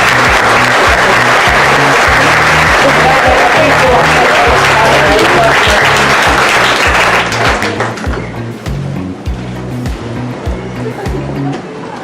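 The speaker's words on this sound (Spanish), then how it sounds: "Vamos a darles un aplauso" An audience at a lecture on thanatology claps together, a dense, loud wash of applause that thins out and fades over its final seconds, with low rhythmic thumps beneath it.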